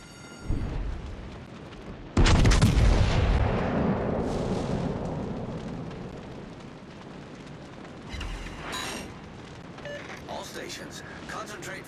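Heavy naval guns from a battleship in a video game fire in a deep booming blast that rolls out into a long decaying rumble, followed later by softer distant thuds and a crackle of secondary fire.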